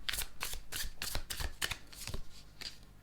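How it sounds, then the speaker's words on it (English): Tarot cards being handled and laid down during a reading, a quick series of crisp papery flicks and slaps, close and steady with no talk over it. "I'm going to put more cards down."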